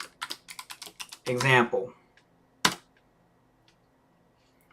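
Fingers type on a computer keyboard while entering a name at a PHP console, a quick run of light clicks near the mic, with brief talk over the start.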